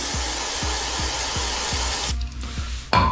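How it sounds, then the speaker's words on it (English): Brake cleaner sprayed onto a rag for motorcycle brake work, a loud continuous aerosol hiss for about two seconds with a faint rhythmic ticking underneath, then it cuts out and a short burst follows. "you take a little rag or whatever and get some brake cleaner in it"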